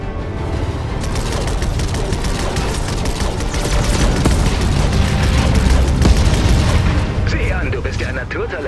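Rapid bursts of video game laser fire at drones crackle continuously over loud, dense explosions and rumbling booms, with a voice faintly underneath.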